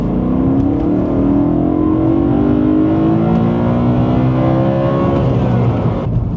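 A BMW M3 with a V8 engine revs and accelerates hard, a loud, steady, rising engine note close by that climbs through the rev range for several seconds with no talking.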